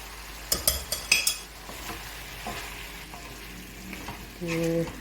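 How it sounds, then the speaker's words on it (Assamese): Meat fries with turmeric, chili powder, cumin, coriander and salt while being stirred: quick metal clinks and scraping up front, then a constant close sizzle, swelling into a louder burst near the end. "ভাল কৰি ভুনি লওঁ।"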